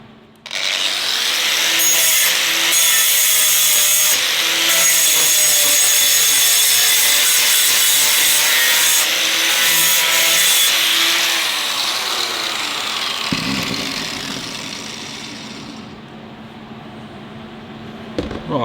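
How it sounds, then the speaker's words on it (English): An angle grinder wears down a gear tooth on a 1954 Ford Mercury, a loud, continuous rasping grind with slight rises and dips in pitch that winds down and fades over the last few seconds. "just give that a grind off"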